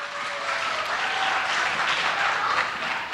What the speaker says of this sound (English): Ladies and gentlemen, a generous round of applause.